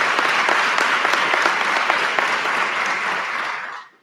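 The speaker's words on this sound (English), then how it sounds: "Give her a round of applause." Sustained, loud applause from an audience at a police department promotion ceremony, a dense wash of clapping that holds steady for several seconds before fading out at the end.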